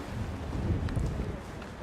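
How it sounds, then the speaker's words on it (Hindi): Steady low rumbling wind buffeting the microphone outdoors at Masjid an-Nabawi in Medina, continuous and fairly loud, with faint background sounds. "बहुत तेज़ हवाएं चल रही हैं यहाँ पर।"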